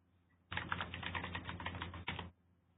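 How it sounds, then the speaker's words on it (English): A burst of rapid typing on a computer keyboard, close and crisp, lasting about two seconds with one brief pause before it stops, in an otherwise quiet room. "I used the keyboard."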